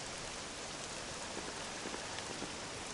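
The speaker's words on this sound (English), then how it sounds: "This accursed rain will chill ye to the bone." Steady rain falling in Dragon Quest 7 Reimagined, a dense even hiss of droplets on surfaces, constant and moderately quiet with no talk.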